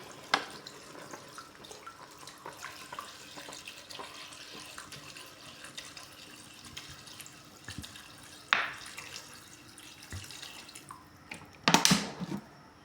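Water is poured from a tap into a cooking pot for beef pata nilaga, a soft continuous trickle with a couple of louder splashing bursts near the end, close and alone without talk.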